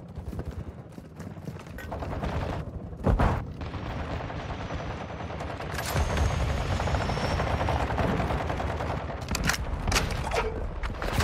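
A helicopter in a multiplayer video game, its rotor drone continuous under heavy bursts of gunfire and explosions, with sharp loud cracks piercing through the steady roar.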